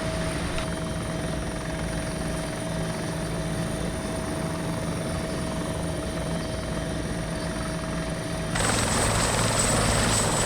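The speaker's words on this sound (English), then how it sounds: "Okay, so helicopter landed" Helicopter in the ArmA 2 video game sets down, its rotor and turbine drone steady and loud, then the engine tone shifts near the end as it settles.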